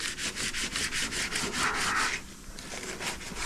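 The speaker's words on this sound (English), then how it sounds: "I'm gonna scuff all of this up, guys. I just want all of this scuffed" A scuff pad rubs over the body of a 1977 Regal before epoxy primer, making a rapid, rhythmic, close abrasive scrubbing that runs almost continuously.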